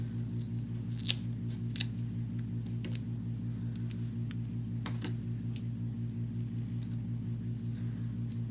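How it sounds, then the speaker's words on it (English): Scissors snip through foam dimensional adhesive pieces while cutting them in half for a Stampin' Up! birthday card, giving sparse, light clicks over a steady low hum. "I'm just going to cut dimensionals in half"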